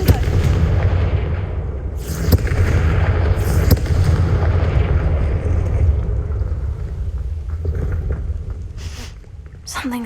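A Confringo blasting spell goes off in Hogwarts Legacy as a dense, sustained rumbling roar of explosive energy with a few sharp cracks on top, loud and close throughout before easing slightly near the end.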